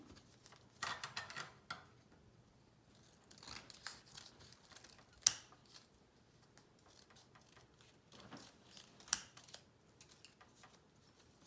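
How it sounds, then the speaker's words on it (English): Scissors trim the paper pages of a handmade book, a quiet, close series of crisp snips and rustles in irregular clusters with pauses between. "It's good to have a good pair of scissors for this too, huh?"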